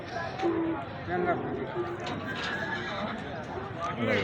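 Horses neigh repeatedly at an open-air horse market, the whinnies sounding close among steady hoof clip-clop, crowd chatter and nearby voices talking.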